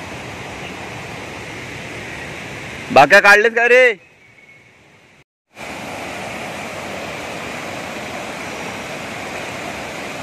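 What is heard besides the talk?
waterfall with increased water flow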